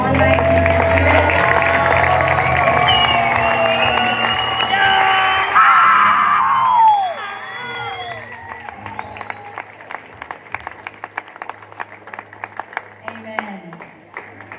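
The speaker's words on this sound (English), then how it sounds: "Now can we give a hand clap to all the online students?" Graduation ceremony audience clapping and cheering for the online students, a dense crowd roar with whoops that thins into scattered individual claps.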